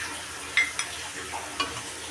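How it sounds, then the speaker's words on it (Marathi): Ivy gourd (tondli) and potato sautéing in a pan, a steady low sizzle with a few sharp scrapes of a spoon against the pan. "परत परतून घेऊया।"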